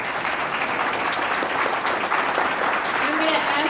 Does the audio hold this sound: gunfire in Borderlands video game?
no